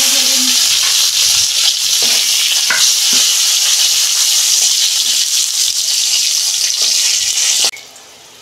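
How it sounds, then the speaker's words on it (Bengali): Eggplant slices fry in oil that was used for fish, giving a loud, constant sizzle with scattered crackles and scraping stirs, which cuts off sharply near the end. "বেগুন ভাজা হয়ে গেছে"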